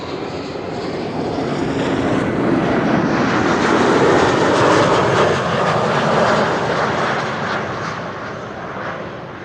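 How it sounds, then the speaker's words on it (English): A German Airways jet flying for KLM CityHopper at Amsterdam Schiphol roars past close by, loud broadband engine noise swelling to a peak mid-way and then easing, with no voices. "This is full German Airways flying on behalf of KLM City Hopper."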